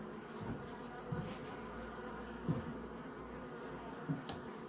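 Honeybees hum steadily around an opened hive during an inspection, a soft continuous buzz with a few brief louder swells as individual bees pass close.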